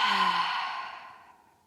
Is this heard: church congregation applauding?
no